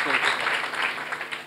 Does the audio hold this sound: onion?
no